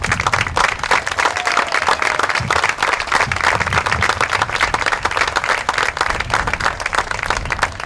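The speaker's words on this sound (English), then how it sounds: "please rise so that we may give you all a round of applause as well" Steady applause from an audience at the opening ceremony of the St. Pete Pier, dense continuous clapping that holds at an even, fairly loud level throughout, with a faint murmur of crowd voices underneath.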